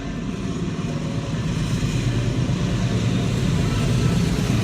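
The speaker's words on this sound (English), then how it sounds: "That is the train, but not my train, some other train." A train passing nearby, heard from inside a parked car: a steady, low, broadband rumble that holds at an even level throughout, with no voices over it.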